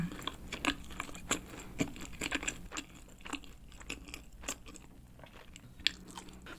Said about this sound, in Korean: 그럼 여기 엣지 부분 먹어볼게요.